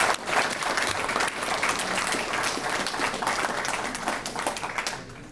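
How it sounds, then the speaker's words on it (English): An audience applauds a group of elementary school students at a school event, a sustained wash of dense clapping throughout that fades away at the very end. "Give them a round of applause."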